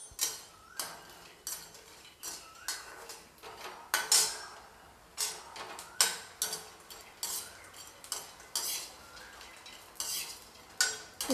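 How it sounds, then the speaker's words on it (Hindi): Urad dal vadi frying in hot oil, heard as bursts of sizzling and repeated metal spoon clinks against the pan in an uneven rhythm, close and moderately loud with no talking. "तेल गरम हो चुका है। अब मैं इसमें डाल दूँगी उड़द दाल बड़ा।"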